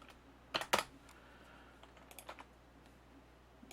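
Computer keyboard typing, a couple of sharp close clicks followed by a scattered run of lighter, quieter keystrokes over a faint hum.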